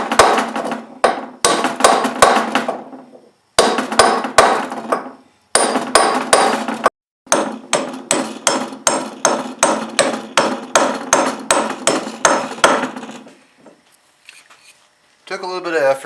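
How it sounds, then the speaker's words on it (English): A brass hammer taps steadily on a tail shaft from an NP231 transfer case, sharp metallic strikes in rapid rhythmic runs separated by short pauses, close and loud. "Now I'm just going to hold the brass hammer on there. Tap it down with the other."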